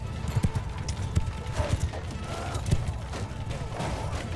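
Horses galloping across a battlefield in the video game Mount & Blade II Bannerlord, heard as a steady stream of hoof clip-clop mixed with scattered battle clatter and low rumble at moderate loudness.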